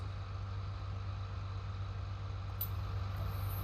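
A tractor engine idles steadily in Farming Simulator 19, a low continuous rumble with a constant hum throughout, and a brief faint click near the end.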